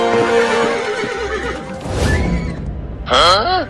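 A cartoon horse gives a loud, wavering whinny near the end, following a stretch of busy voices and clatter.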